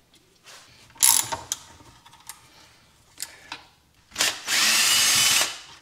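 A power drill, likely a Ryobi, backs out three or four screws during a Shinko 244 tire fit on a Begode Hero electric unicycle, with short whirring bursts and then one sustained loud run near the end.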